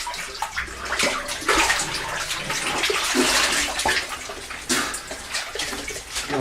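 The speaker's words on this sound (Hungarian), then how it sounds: "a túloldalról folyik be a víz a szifonba" Water pours steadily into a cave siphon from the far side of a passage, a continuous rushing, splashing flow that stays fairly loud and close throughout, with no voices.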